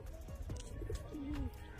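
A fancy Teddy pigeon cooing softly nearby, with a short run of low, throaty, wavering coos that rise and fall over a couple of seconds against quiet background noise.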